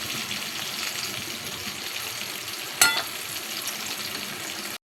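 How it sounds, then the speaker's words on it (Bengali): Eggplant pieces frying in oil in a pan for a Bengali pabda fish curry, sizzling and crackling steadily and close for the whole stretch, with one sharper burst of spatter midway. No voices. "বেগুনগুলো একটু লাল লাল ভাজা হোক,"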